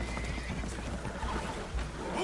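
Spooked horses whinny and neigh aboard a damaged boat taking on water in a video game, with hoof clatter and a low rumbling background, moderately loud.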